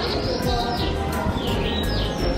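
Pigeons in the old town of Tuancheng, Hotan, where many residents keep them, give brief chirps and calls over a steady outdoor background hum, with no talking.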